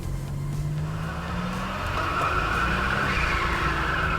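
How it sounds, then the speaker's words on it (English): A 1986 Buick Grand National under turbo boost accelerates hard with both rear tires spinning, a loud continuous engine roar with rising pitch mixed with tire squeal, close and steady throughout. "So what we'll do is boost it to around 5 pounds and let her go."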